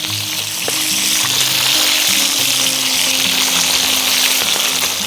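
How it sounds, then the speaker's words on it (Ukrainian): Small fish frying in a pan of oil, a steady loud sizzle with bubbling crackle and occasional stirring clicks, continuous and close with no talk. "Першу партію посмажили, черга другої."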